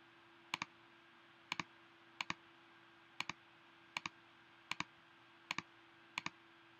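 Clicks on an in-game keypad in the Poptropica video game come in evenly spaced pairs of sharp, faint taps, eight pairs in all, with a steady low hum underneath.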